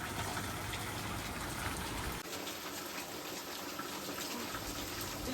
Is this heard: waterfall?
yes